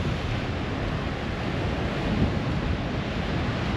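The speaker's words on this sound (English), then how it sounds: "That is so windy, man." Strong wind gusting across Patong beach in Thailand, a steady, loud, roaring rush with surf mixed in, constant throughout with no talking.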